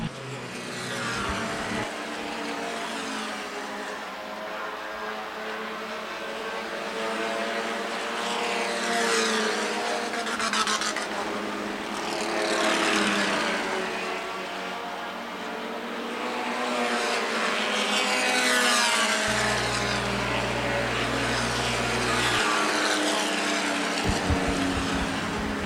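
Front-wheel-drive compact stock cars race around Winchester Speedway's oval, their engines droning loudly and steadily as the pack passes, with engine pitch rising and falling through the laps.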